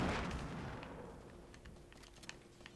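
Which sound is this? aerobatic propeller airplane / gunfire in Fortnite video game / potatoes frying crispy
gunfire in Fortnite video game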